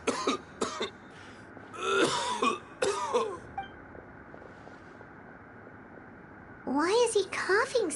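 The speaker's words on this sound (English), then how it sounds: "Why is he coughing so much?" A male character in the video game Genshin Impact gives a few short, rough coughs and throat clears near the start and middle, broken up by dialogue, and voices speak again toward the end.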